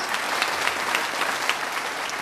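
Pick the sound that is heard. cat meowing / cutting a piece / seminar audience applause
seminar audience applause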